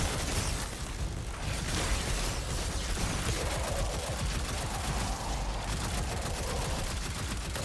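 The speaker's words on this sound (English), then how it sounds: "I'm rocking with the new auto rifle. Shoots fast." A rapid-firing auto rifle in Destiny rattles in a continuous dense stream of shots, loud and close, with no pauses.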